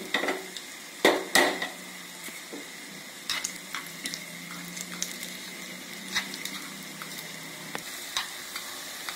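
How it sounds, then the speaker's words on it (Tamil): Cashews frying in a spoonful of ghee for sweet potato halwa give a soft, steady sizzle, with a spoon stirring and scraping the pan in sharp, irregular clinks. "ஒரு ஸ்பூன் நெய் விட்டு நம்ம முந்திரியவும் வறுத்துக்குவோம்"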